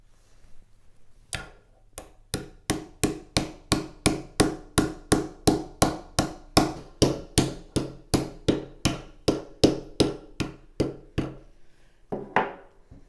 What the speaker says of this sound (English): using a hammer.